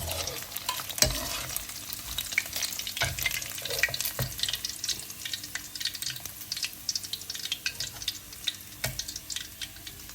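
Vietnamese-style pork sausage fries in a pan until golden, giving a steady close crackling sizzle throughout with sharp clicks and scrapes of stirring scattered across it, no voices.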